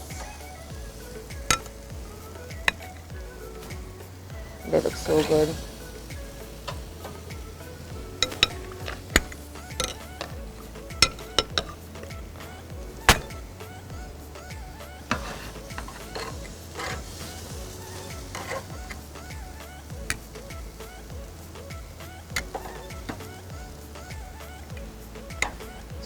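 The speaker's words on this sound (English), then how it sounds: "So I'm going to add my chicken to my grill now. Can you hear that sizzle?" A constant low sizzle of jerk chicken on a grill runs throughout, dotted with irregular clinks and taps of utensils, and a brief spoken remark is heard.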